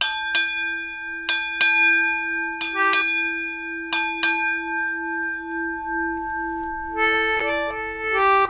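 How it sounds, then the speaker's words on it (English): A ship's bell is struck to mark the change of watch, ringing loud and close in evenly spaced pairs of bright strikes that leave long, sustained tones, followed by a quicker cluster of ringing notes. "he would ring the bell to mark the changing of the shifts, the watches"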